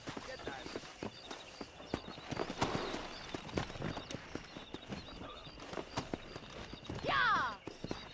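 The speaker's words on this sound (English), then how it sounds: "Let's see if we can't wrangle some horses." Horses gallop with rapid clip-clop hoofbeats in the Western game Red Dead Redemption, steady and close throughout, mixed with game ambience and a brief neigh near the end.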